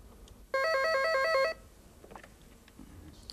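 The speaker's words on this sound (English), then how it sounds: "I'm first going to make a perfectly normal call" A telephone rings with a single electronic ringtone burst lasting about one second, loud and clear, during a normal call being placed between two desk phones, with quiet room noise around it.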